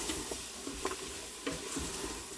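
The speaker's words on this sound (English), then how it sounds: "Stir those up real good. Get them all coated in it." Chopped onions stirred into chicken and sausage in a Cajun gumbo pot: a steady close sizzle with repeated scraping strokes of the spoon, and no talking.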